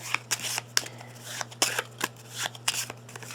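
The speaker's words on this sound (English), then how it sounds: "We're going to shuffle the heck out of these." A deck of cards for a board game is shuffled repeatedly, with crisp riffling bursts and sharp snaps, under a steady low electrical hum.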